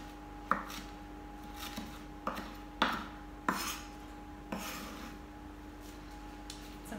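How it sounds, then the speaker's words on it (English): A knife chops roughly through fresh mint leaves on a cutting board, giving about eight sharp, separate thuds at an irregular pace, close by and moderately loud over a faint steady hum. "Give it a rough chop, but not too fine."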